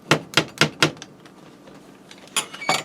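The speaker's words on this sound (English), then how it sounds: "I'll have to take a knife and trim up the ends here" A knife cuts and trims the ends of rolled stromboli dough on a board, four sharp, evenly spaced chops close up, then a pause and a couple more quick cuts, with no talking.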